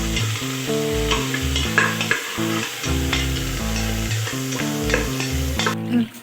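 Ginger garlic paste gets stirred into browned onions in a frying pan for vegetable pasta, a steady sizzle with scraping spoon strokes over it and background music playing throughout.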